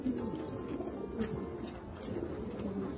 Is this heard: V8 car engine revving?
no